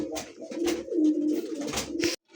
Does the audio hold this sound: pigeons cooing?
yes